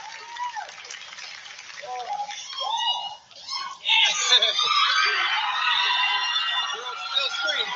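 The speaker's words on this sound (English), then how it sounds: "They still scream for you." A television studio audience screams and cheers for a performer, a dense sustained roar that swells and carries on with laughter mixed in, while voices talk over it.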